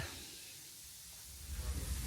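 Steam hisses from a steam locomotive pulling out of the station on Scotland's Bo'ness & Kinneil heritage railway, a steady broad whoosh that swells with a low rumble toward the end.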